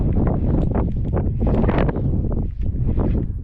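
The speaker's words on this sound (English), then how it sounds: "A little windy out here" Steady gusting wind buffets a nearby microphone outdoors by a lake, a low rumbling roar that rises and falls throughout with no other clear sounds.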